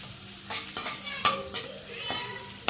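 Green chillies, onion and capsicum stir-fried in a pan for chilli chicken, a ladle scraping and tossing in several sharp strokes over a soft sizzle, close by.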